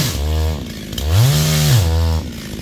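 A G375 chainsaw cuts down a yellow-flowered acacia tree near a house, its engine loud and close, revving up and dropping back in two or three bursts.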